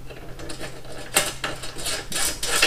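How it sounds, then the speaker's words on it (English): A 1¾ bolt, washer and nut fitted on an 06 Harley Ultra Classic while installing a Tour-Pak relocation kit, heard as close, quick metallic clicks and ratcheting taps in short bursts. "So I'm just installing the bolt,"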